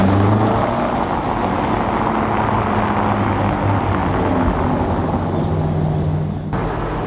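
BMW M8 Competition convertible on the move, a steady loud engine and road roar with low droning tones holding throughout, no voices, the sound dropping briefly near the end.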